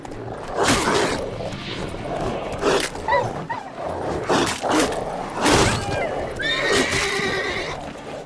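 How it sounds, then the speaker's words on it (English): Snarling dogs attack in the Witcher 3 video game, mixed with horse whinnies and hoof clip-clops from the horse Roach, several loud bursts over a busy game soundscape, with a voice speaking at times. "Oh, it's some dogs."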